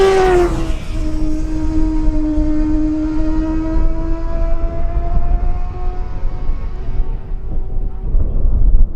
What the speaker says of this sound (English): Two more ultra lightweight machines are coming through now.